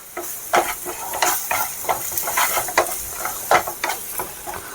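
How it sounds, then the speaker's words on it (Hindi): Masala for Bihari chokha fries in a pan with a soft continuous sizzle, broken by repeated scraping stirs in an irregular rhythm, close and fairly quiet, with no talking. "इसको आप अच्छे से पका लें सारा मसाला को कि आपका कच्चा नहीं रहे"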